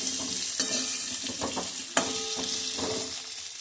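Chopped radish sizzles steadily in a pan over low heat with Kashmiri chili, with a spoon stirring and scraping against the pan now and then, a few sharp clinks punctuating the close, constant frying.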